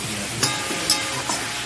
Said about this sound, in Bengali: এটা একটু কষিয়ে নিই, কষিয়ে তারপরে আবার জল দিয়ে দেবো।